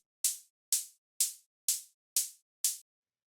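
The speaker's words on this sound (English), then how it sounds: "I guess, sort of like main hi-hat, which sounds like this" Six evenly spaced electronic hi-hat hits from a melodic techno drum pattern, each a crisp, bright burst of hiss with a short decay, played alone and dry at a steady pulse.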